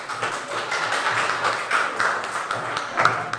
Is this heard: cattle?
no